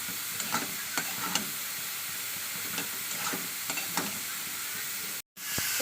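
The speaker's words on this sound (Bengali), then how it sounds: "আমার ডালটা কিন্তু ভাজা ভাজা টাইপ হয়ে আসছে" Lentils for a bituli dal fry in a hot pan, giving a steady soft sizzle punctuated by regular scraping stir strokes, close and alone, ending with a brief cutoff.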